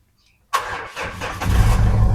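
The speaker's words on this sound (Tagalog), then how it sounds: "Start po natin yung engine nito." A pre-owned SUV's engine cranks and catches after a short silence, firing up abruptly and settling into a close, steady idle that grows slightly fuller toward the end.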